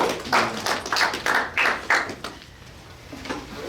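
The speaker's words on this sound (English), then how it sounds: "I applaud you" An audience of ROTC students gives a short round of rhythmic clapping, a handful of distinct, fairly close claps that thin out and fade toward the end.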